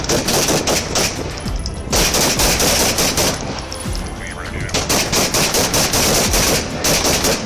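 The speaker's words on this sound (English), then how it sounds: "Police came under fire as they arrived. They returned shots and Roberts went down." Rapid gunfire erupts as police arrive at a house set on fire, with loud bursts of shots crackling in quick clusters, briefly pausing near the middle before resuming, harsh and close.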